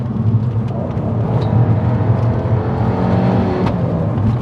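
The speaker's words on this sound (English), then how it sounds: "You can hear the exhaust through the back end." A Fiat 500 Abarth Celebrity, a rare road-legal race car, accelerates with a steady, loud engine drone and exhaust rumble heard close from the cabin, with no talk over it.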